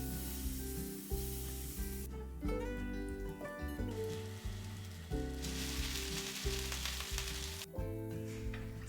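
Millet dosa batter sizzles and fries on a hot pan, a close steady crackling hiss beneath soft background music, swelling louder at moments.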